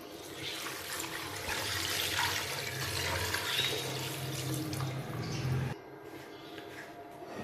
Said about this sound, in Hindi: पानी तकरीबन 2 लीटर इसमें मैं शामिल करूंगी